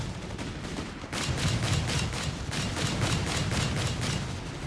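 Dense, continuous machine gun and flak fire from a Company of Heroes 3 battle, with rapid rhythmic bursts layered over a loud rumbling barrage that holds steady throughout.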